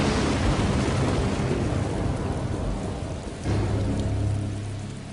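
A thunderstorm pours heavy rain, with deep thunder rolling and rumbling close by over the constant hiss of the downpour.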